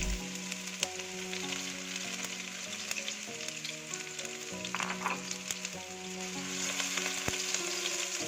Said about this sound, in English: Heat the oil in the large skillet over medium-high heat. Add the onion and saute until translucent.